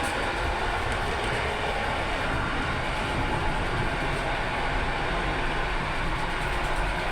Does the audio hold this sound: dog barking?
no